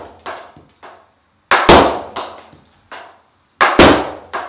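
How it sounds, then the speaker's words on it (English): The head of a Princess SGX field hockey stick strikes a ball, sharp loud cracks repeated about eight times at uneven intervals, close and alone with short decay. "Really nice hitting off the head of the stick."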